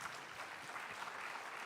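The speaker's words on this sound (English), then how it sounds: "please give a big round of applause to all the 5 panelists" Conference audience clapping for a panel of five speakers at a population ageing event: faint, distant, even applause that carries steadily through the short stretch.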